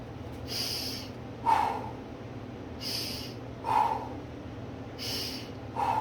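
Slow, steady breathing during a back stretch in a fitness routine, three drawn-out breath cycles spaced about two seconds apart, each with a sharper nasal intake, close and quiet with no talking.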